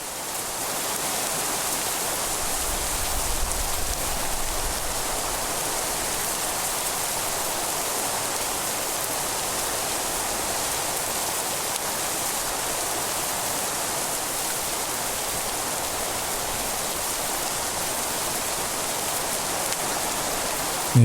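Steady, even rainfall in the Minecraft TerraFirmaGreg game, a constant soft hiss of rain with no voices, holding at an unchanging level throughout.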